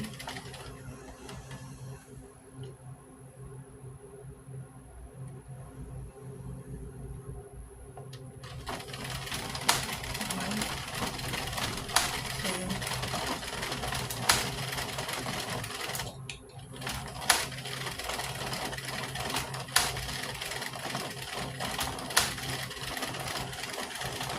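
A knitting machine knits rows, first as a quieter mechanical hum, then as a louder steady rattling drone with regularly spaced clacks as the carriage reaches each row's end, and a brief pause near the end.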